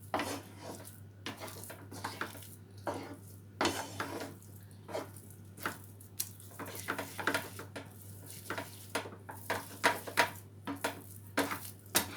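A spoon scrapes and clatters against a pan as besan barfi mixture is slowly folded together with sugar syrup, giving repeated soft scraping strokes over a steady low hum, with no talking.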